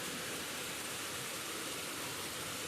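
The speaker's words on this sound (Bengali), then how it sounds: "প্রচুর বৃষ্টি হচ্ছে, প্রচুর।" Heavy rain pours steadily outside, a dense, even hiss of drops with no breaks, heard from indoors.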